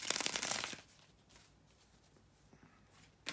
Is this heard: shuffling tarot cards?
yes